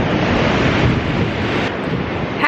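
Sea waves break and wash continuously onto a Portuguese shore, a loud steady roar of surf with wind buffeting the microphone throughout.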